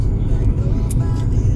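A slow line of cars and camper trailers heading out of Gympie after a country music festival rumbles nearby as low, steady engine and tyre noise, heard under people talking.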